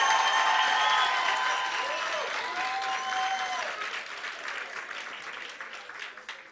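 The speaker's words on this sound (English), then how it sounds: "Please clap louder for him" Gala dinner audience applauds a trophy winner, a dense roll of clapping that starts strong and gradually thins and fades, with cheering voices and chatter mixed in.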